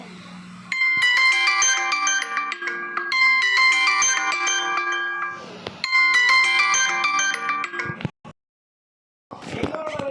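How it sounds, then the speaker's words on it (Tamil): A phone ringtone plays a loud, bright chiming melody that repeats in three phrases, then cuts off; after a short silence a brief burst of other sound follows. "நமக்கு ஃபோன் வந்துச்சு அதான்."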